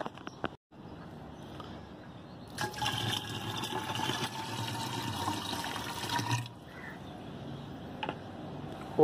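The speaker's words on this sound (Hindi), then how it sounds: "तो सबसे पहले हम इसके अंदर पानी भर लेते हैं," Tap water pouring into a 1.5 litre bottle while mixing a plant insect spray: a steady, loud rushing fill that lasts several seconds and then stops, with quieter running water before and after.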